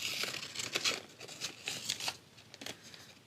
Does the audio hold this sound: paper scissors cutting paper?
yes